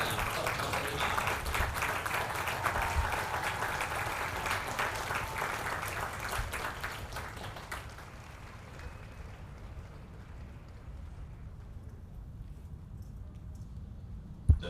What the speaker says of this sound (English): please join me in a round of applause for the company staff of Company I